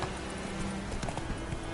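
Hoofbeats of Roach, the horse in The Witcher 3, clip-clopping steadily under continuous game ambience, with an occasional faint whinny.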